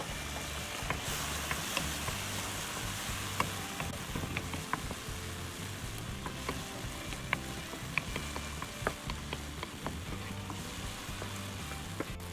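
Tomatoes fry in a pan for an Indian noodle curry, giving a constant bright sizzle with scattered crackles and pops, close and fairly quiet, with no talking.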